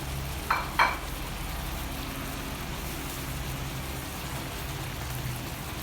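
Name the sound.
stir-frying pork in coconut milk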